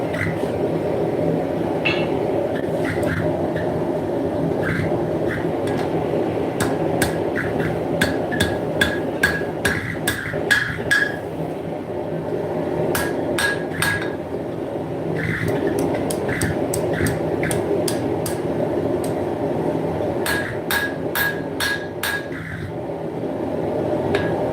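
Hammer blows ring out as a railroad lock washer is forged on the horn of an anvil, sharp metallic strikes coming in quick bursts with short pauses, close over a steady background roar.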